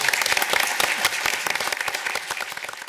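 Audience applause at a council meeting for the outgoing Deputy Mayor, a brisk rattle of many hands clapping close by, strong at first and thinning toward the end.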